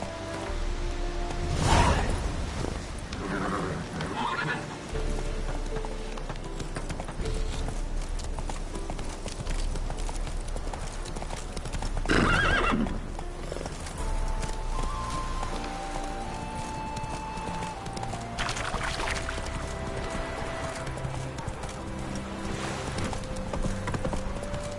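Hooves of Roach, a horse in the video game Witcher 3, clip-clopping in a steady gallop throughout, with occasional louder whooshing bursts over a game soundscape.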